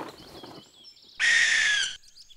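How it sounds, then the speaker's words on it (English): A bird call in the wild, presented as an owl: a single sustained, bright whistled tone lasting under a second, loud and close, following fainter chirps. "it looks like an owl, but it doesn't sound like the owl from my toy"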